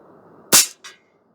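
A Stoeger XM1 Bullshark .22 PCP airgun fires an 18-grain pellet from a bench rest: one sharp, loud crack, followed a fraction of a second later by a quieter distant impact, then silence.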